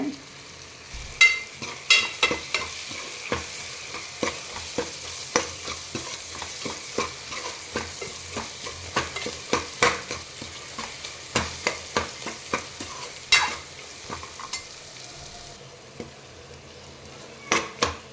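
Tomatoes softening with salt in a pan for a vegetable pulao, stirred with a spoon in repeated sharp scrapes and clicks over a low steady sizzle, close and clear, with no talking.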